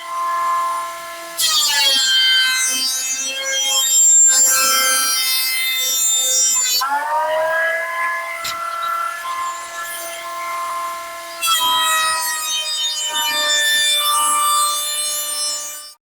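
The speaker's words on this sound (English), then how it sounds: "I'm probably just going to run it through the planer." A power planer runs wood through its cutters to strip the old finish off a board for a simple cabinet shelf, giving a loud, steady whine with strong tonal overtones in two or three long sustained passes, alone with no talk.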